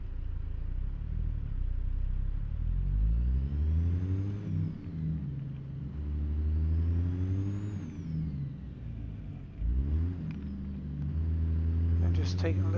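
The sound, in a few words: Freightliner Cascadia truck engine revving in first gear, video game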